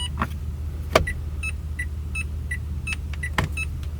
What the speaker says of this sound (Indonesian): Bunyi lampu sein juga bisa kita ganti. Bunyi pertama kayak gini, dan bunyi kedua kayak gini.